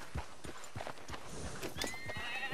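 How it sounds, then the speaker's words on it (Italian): Hooves clip-clop in a steady trotting rhythm as a horse in Red Dead Redemption 2 moves, followed by a clear, drawn-out whinny near the end. "Mettiti sul cavallo e andiamo, Sadie."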